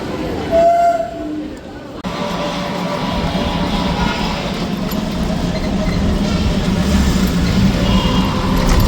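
A train rumbles steadily nearby, a loud continuous roar of wheels and engine that builds after a brief quieter moment at the start.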